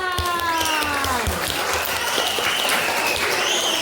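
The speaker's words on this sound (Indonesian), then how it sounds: "Tepuk tangan." Applause from an audience at a primary school Ramadan speech contest, a dense steady patter under a voice whose pitch slides downward, with crowd noise throughout.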